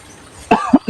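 Three short, close coughs in quick succession, the first the strongest and the last two hoarser, after a quiet moment of background hiss.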